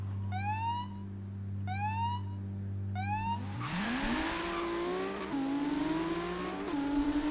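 Game cars in Forza Horizon 3, including an NSX, GT-R, Camaro Z28 and GT350R, sound three rising horn honks as a countdown, then launch together with loud climbing engine roars and gear-change dips as they accelerate hard.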